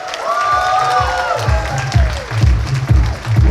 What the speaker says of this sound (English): huge round of applause for all the speakers. Clap those hands, ladies and gentlemen.